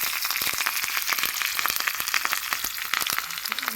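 Dried red chillies fry in mustard oil for a tempering, giving a steady close crackling sizzle with rapid popping spatters throughout.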